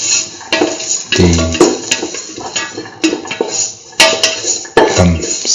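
Garlic pieces sautéing in a pan, a faint frying hiss broken by repeated metallic clinks and scrapes of a utensil against the pan, close by, with no talk.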